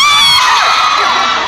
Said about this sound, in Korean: 와 진짜 함성 소리도 장난 아니고